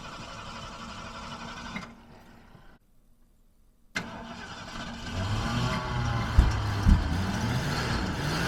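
A tractor engine on a farm cranks and catches after a brief pause, then settles into a steady, moderately loud idle with a couple of sharp knocks near the end.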